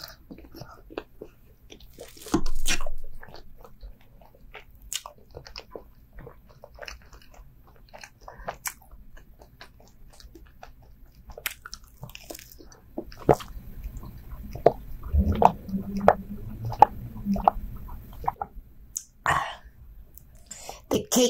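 Close, soft chewing and squishy bites of a Doredore rainbow cake at a mukbang, quiet wet mouth sounds with occasional louder bites and faint whispered voice.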